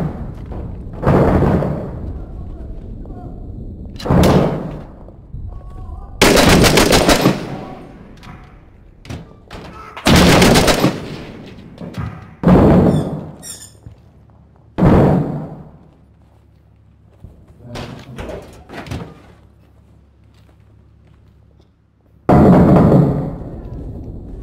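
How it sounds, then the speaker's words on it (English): Heavy thuds and booming blasts from RPG fire and gunfire in the tactical shooter Six Days in Fallujah, arriving in about nine loud, irregular bursts with quieter rumbling gaps between them and no talk. "That's RPG fire!"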